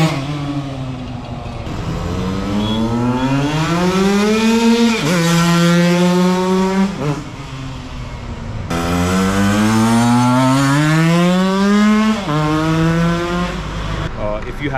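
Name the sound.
motorcycle engine running and revving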